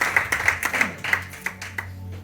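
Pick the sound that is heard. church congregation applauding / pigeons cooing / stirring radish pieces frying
church congregation applauding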